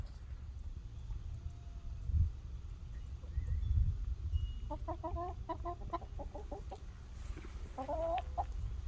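Free-ranging chickens on a Missouri homestead cluck in short bursts, a few soft calls then a cluster of clucks, heard at moderate distance over low outdoor rumble and wind.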